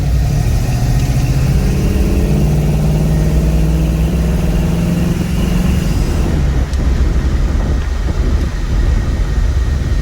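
A custom 1963 Chevrolet Nova's engine drones steadily and loud inside the car on a test drive, pitch rising and falling with acceleration, then settling lower and rougher toward the end; no one speaks.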